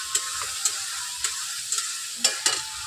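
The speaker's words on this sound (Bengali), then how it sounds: "হলুদের গুঁড়া দিয়ে ভালো করে নেড়ে ছেড়ে দেবো" Turmeric powder stirred into frying meat masala, a quiet steady sizzle punctuated by about eight sharp spoon-against-pan scrapes at an irregular rhythm, close up.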